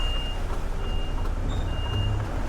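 An HGV lorry reversing into a corner spot, its reversing alarm beeping in steady, evenly spaced pulses over a continuous low engine rumble.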